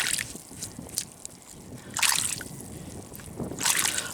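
Water sloshes and splashes in uneven bursts as a muddy mudlarking find, an old bottle, is rinsed off outdoors, with short trickles between the louder swishes.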